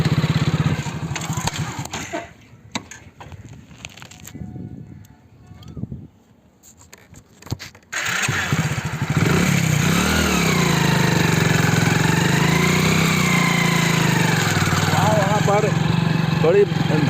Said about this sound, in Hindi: थोड़ी धसान है इस मिट्टी में, इसलिए बाइक जो है थोड़ी धंस रही है।